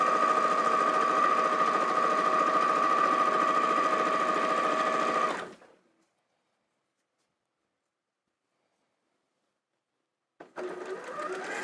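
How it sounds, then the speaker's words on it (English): A sewing machine chain-pieces quilt fabric in a fast, steady whirring run that stops abruptly partway, followed by silence and then a short restart near the end. "you're just feeding the fabrics in one after the other and just sewing them all together in one go"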